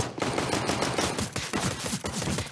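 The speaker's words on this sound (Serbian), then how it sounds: "Pucanje, pucanje" Gunfire in a CS:GO match on the Mirage map, a sustained rapid automatic-weapon exchange with dense overlapping shots at moderate loudness.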